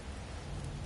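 Video game storm with heavy rain and low thunder rumble, a dense steady downpour with no voices, brief and moderately loud.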